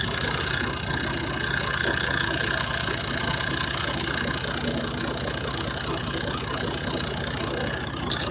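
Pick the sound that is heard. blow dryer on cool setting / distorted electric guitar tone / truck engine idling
truck engine idling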